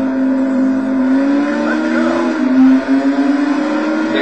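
Esperante GTR-1 race car engine in the racing game Total Immersion Racing, a loud steady high-revving drone with slight pitch shifts, close and continuous, a brief dip near the end.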